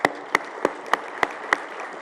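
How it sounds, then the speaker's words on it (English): Six sharp, evenly spaced claps ring out in a steady rhythm, sounding like a lone pair of hands or a few people at a summit honoring its sponsors rather than a full crowd. "Let's give them a round of applause."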